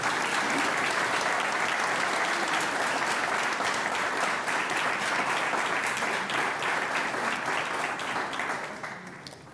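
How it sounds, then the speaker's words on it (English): Sustained applause from an audience at a community achievement awards ceremony in Kincardine, steady and full for several seconds before gradually tapering off at the end. "Can we just give an applause for the 3 nominees?"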